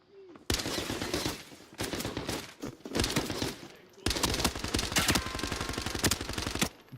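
Rapid automatic gunfire with heavy recoil in a video game, loud close bursts of densely packed shots, a short gap near the start, then a long sustained stream broken by brief pauses.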